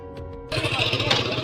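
Motorcycle arriving, its engine suddenly loud after a quiet moment with a low, steady idling throb close by, carrying on to the end.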